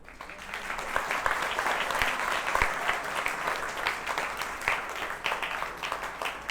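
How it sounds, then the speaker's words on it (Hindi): A room full of people at a session gives a big round of applause, sustained dense clapping with a few sharp individual claps standing out near the microphone. "First of all big round of applause for Pant sir."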